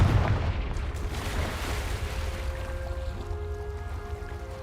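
A Confringo fire spell bursts in Hogwarts Legacy, a heavy booming blast up front that settles into a rumbling, crackling tail with faint tonal hum, loud and close with no voices over it.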